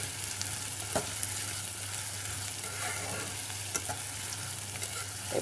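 Prawns and okra frying in a pan, with a soft, steady sizzle underneath and a few sharp clinks of a spoon stirring against the pan, close by and moderately quiet.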